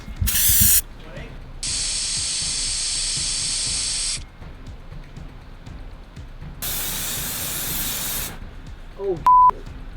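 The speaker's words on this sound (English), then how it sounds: "We will test the opening with a little shot of aerosol." Aerosol insecticide is shot in long hissing bursts into the opening of a wasp nest by an exterminator. Two sustained sprays come close and loud, with a short puff first and a brief beep near the end.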